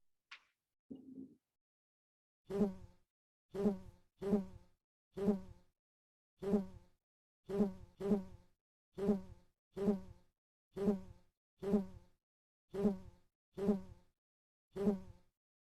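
A series of short, evenly spaced buzzy bee tones from a video game, about a dozen repeated bursts, each with a clear buzzing harmonic texture, in an otherwise quiet background.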